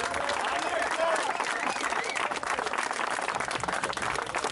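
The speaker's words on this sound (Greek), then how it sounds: "Ένα χειροκρότημα για το μηχανικό." Applause for a mechanic at a Patra race event, with a crowd clapping loudly and continuously throughout, plus some cheering voices mixed in.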